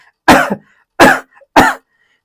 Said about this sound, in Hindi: कलाई के अंदरूनी हिस्से में जहां पर आपकी नाड़ी महसूस होती है उसे आपको अंगूठे से दबाना है और 3 बार आपको जोर से खांसना है।